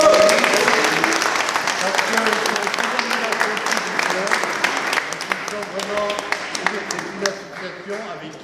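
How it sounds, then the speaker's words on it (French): A crowd at a morning community gathering applauds in a sustained wash of clapping, loud at first and slowly thinning, with a voice speaking faintly underneath. "nos amis de l'association L'Océbrut que nous applaudissons"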